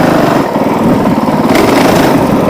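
A Honda CRF450L dual sport motorcycle's enduro engine running, a loud, close, steady buzzing drone with rapid firing pulses that holds for the whole moment.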